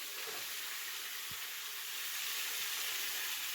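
Cube steak sizzling in a hot skillet, a loud steady frying hiss that fills the clip without a break, with one faint brief knock partway through.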